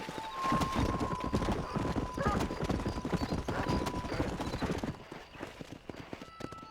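Galloping horse hooves pound steadily in Red Dead Redemption, a dense rhythmic clip-clop with an occasional whinny, loud and continuous under game music and character voices talking.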